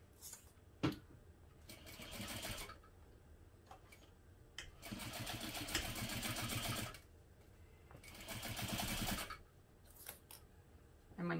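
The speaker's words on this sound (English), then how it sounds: "now we want to sew this together using a 1/2 inch seam allowance" A sewing machine stitches a 1/2 inch seam allowance on a bag project at 1/4 stitch length, running in three steady bursts of rapid mechanical whirring separated by quieter pauses with small clicks and handling noises.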